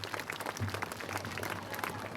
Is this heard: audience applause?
yes